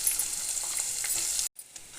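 Onions frying in hot oil with mustard seeds and cumin, heard as a steady, close, bright sizzle that cuts out abruptly near the end before a fainter hiss returns, with a few light stirring scrapes and no talk.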